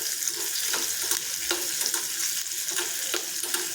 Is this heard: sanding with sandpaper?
no